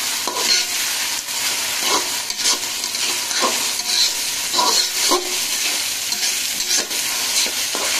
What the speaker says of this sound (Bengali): চাল দিয়ে নাড়বো।